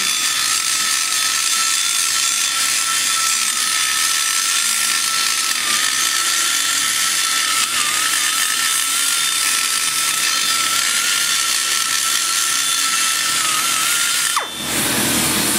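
A die grinder smooths the aluminum intake port bowl of a ProMaxx 200 Stage IV cylinder head, giving a steady, close, high-pitched whine with a grinding edge that runs alone for about fourteen seconds before cutting off abruptly.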